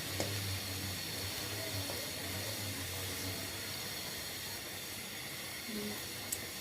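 Onions fry in a pan on the way to browning, giving a continuous, even, moderately quiet hiss with a faint low hum underneath and no clear talking.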